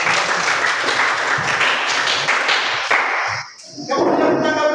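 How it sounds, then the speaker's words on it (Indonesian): Students in a classroom applaud together, loud close clapping that runs for about three seconds, stops abruptly, then picks up briefly again. "Tepuk tangan dulu."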